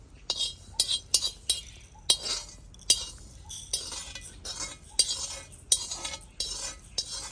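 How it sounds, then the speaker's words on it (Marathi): Roasted sesame seeds pounded coarsely in a stone mortar and pestle in a home kitchen while making Vidarbha sambhar vadi: a series of sharp, close knocking and clinking strikes at a loose, uneven rhythm, with faint background murmur. "नंतर खलपत्यात थोडेसे कुटून घेऊ"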